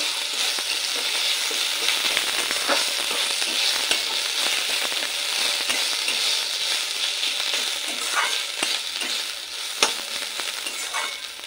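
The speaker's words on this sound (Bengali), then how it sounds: "আদা বাটাটার সঙ্গে ডালটা আবার একটু নেড়ে নেব, ভালো করে মিশিয়ে একটু ভাজা ভাজা করে নেব।" Moong dal frying with ginger paste and turmeric, stirred in a pan, gives a continuous close sizzle and crackle with scraping stir strokes and occasional louder pops, no voices.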